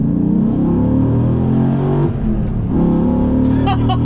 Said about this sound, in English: It sounds full on like a Viper. That throaty, deep V10 in a truck.